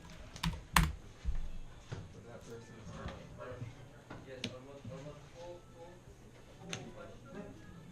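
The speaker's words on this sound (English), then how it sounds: "Please excuse the typing." Clattering computer keyboard keys in bursts of rapid taps with a couple of louder knocks early, while someone talks over it.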